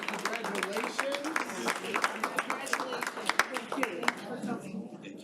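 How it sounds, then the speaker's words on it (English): A round of applause for a person named Diana at a high school event, steady crowd clapping with crisp individual claps standing out, some voices mixed in underneath. "one last round of applause for Diana"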